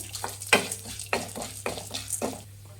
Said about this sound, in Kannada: ಇದು ಮೀಡಿಯಂ ಫ್ಲೇಮಲ್ಲೇ ಇಟ್ಬಿಟ್ಟು ಘಮ ಬರೋವರೆಗೂ ಹುರಿಬೇಕು ಇದನ್ನು.